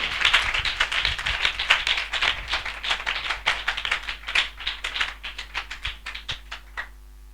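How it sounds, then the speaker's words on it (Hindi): Loud clapping from a church congregation at a Hindi revival meeting: dense, rapid hand claps that keep going for several seconds, then thin out and stop near the end. "जोरदार ताली से उनका स्वागत करें।"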